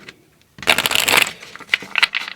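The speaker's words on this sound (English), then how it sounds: "Let's give this a quick shuffle, okay?" Tarot cards are shuffled close to the microphone, a brief riffling flutter after a moment of quiet, followed by a few softer shuffles.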